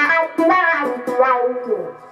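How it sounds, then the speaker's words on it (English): Electric guitar played through a Dunlop Crybaby wah pedal, a short sweeping phrase with the vocal-like filter opening and closing over a few notes, fairly loud and close. "This is a Dunlop Crybaby Wah."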